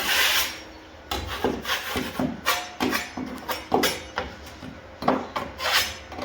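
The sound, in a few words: scraping back a drywall crack with a blade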